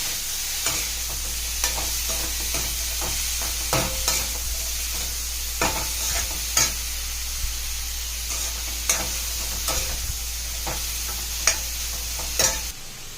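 Pinto beans with cabbage and green chillies are stir-fried in a pan, with a steady sizzle under regular scraping stirs of the spatula every second or so, close and fairly loud, with no voices.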